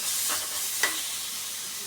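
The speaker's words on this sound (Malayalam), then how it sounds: "തീ കുറച്ച് വെച്ച് നല്ലപോലെ ഒന്ന് മൂപ്പിച്ചെടുക്കാം" Crushed shallots and chilies sautéing in oil over a low flame, a soft continuous sizzle with a couple of faint stirring scrapes, close and quiet, no voices.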